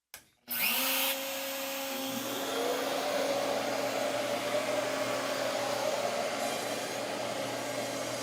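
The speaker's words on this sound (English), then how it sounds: "So we've got the 16 millimeter router bit set up here in Origin." A Shaper Origin handheld CNC router fitted with a 16 mm bit clicks on, then runs with a loud, steady high whine and broadband roar that holds for several seconds, close by with no talk.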